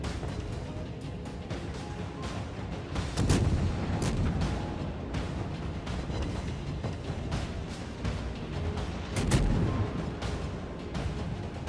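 Heavy naval guns fire from warships during a video game battle, with deep booming blasts over a continuous rumbling backdrop and two louder salvos standing out.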